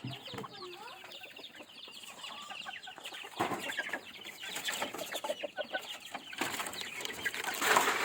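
Several chickens cluck and chatter nearby in a busy backyard, with soft rustling and shuffling underneath, no speech.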